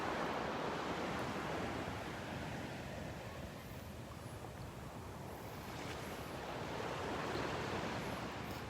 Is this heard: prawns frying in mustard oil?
no